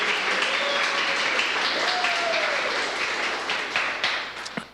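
A church congregation bursts into loud, dense applause at a Sunday service, the clapping sustained and close throughout, with a few voices and a rising whistle-like tone mixed in.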